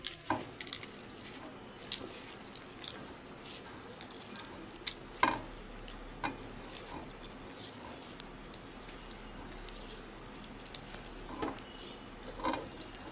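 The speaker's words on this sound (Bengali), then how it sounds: "একটু সর্ষের তেল দিয়ে দিচ্ছি সামান্য, দিয়ে হাতে করে ভালো করে মাখবো।" Washed masoor dal mixed by hand with a little mustard oil: soft, quiet squishing and grainy pattering, with faint irregular taps, close and steady throughout.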